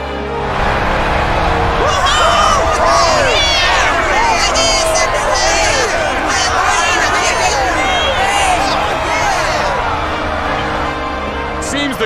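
A Dragon Quest XI fan club crowd cheers and chatters in a steady, busy wash of many voices, loud and continuous from start to end.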